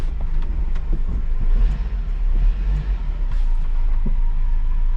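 An old mini truck engine idles steadily after its first start in years, a loud, close, low rumbling putter with slight unevenness and occasional small pops.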